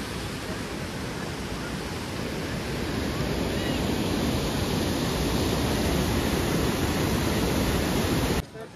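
The Mandakini river rushes near Kedarnath in a loud, unbroken roar of turbulent water that builds slightly, then cuts off abruptly just before the end.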